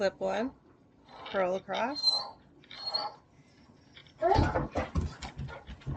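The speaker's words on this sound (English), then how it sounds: "you can hear the dog freaking out in the background" A dog indoors whines, yelps and pants excitedly in the background while someone talks through knitting steps for a left-handed sock.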